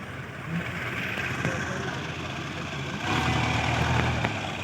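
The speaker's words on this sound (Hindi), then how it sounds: "देखो गड्डी किस तरह क्रॉसिंग कर रही है।" A car crossing on a narrow mountain road beside the river in Neelum Valley makes a continuous engine rumble that grows louder and closer partway through, with no voices.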